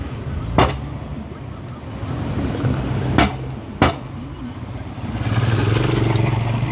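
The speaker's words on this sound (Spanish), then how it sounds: "el tráfico acá en México es muy fuerte, muchos carros" Busy street traffic in Mexico with cars and buses gives a steady roadway rumble, broken by a few sharp knocks and a rising engine near the end.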